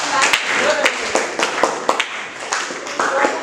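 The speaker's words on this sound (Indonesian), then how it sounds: "tepuk tangan untuk kelompok" A small classroom group applauds after a presentation, with scattered uneven claps over a few seconds while voices talk over them.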